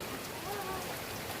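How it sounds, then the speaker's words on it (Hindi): Rain falls in a steady, soft patter on the surfaces around a home, faint and continuous with a faint murmur of voices under it. "अभी बारिश हो रही है"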